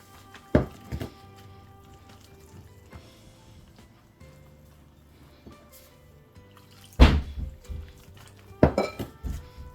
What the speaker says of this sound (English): I'm going to start adding the water to it. So while you're adding, you just keep stirring.